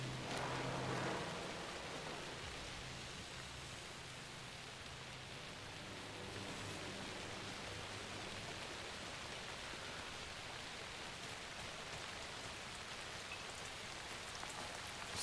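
Rain falls steadily in the video game Alan Wake 2, a dense, even hiss of drops on surfaces that continues unbroken and fairly quiet, with a slight low rumble underneath and no voices.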